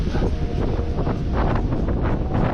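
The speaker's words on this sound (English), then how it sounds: "Oh, it is really blowing out here, folks." Strong wind roars and buffets across a snowy winter camp, with a buried shelter and deep snow all around; the gusting blast stays loud and steady throughout with no talk.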